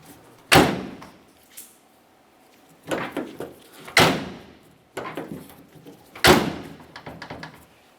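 The tailgate on a 1994-2002 Dodge Ram 2500 is tested after a handle replacement, with the handle clacking and the gate banging shut in three loud, close thuds, each followed by smaller rattles and latch clicks.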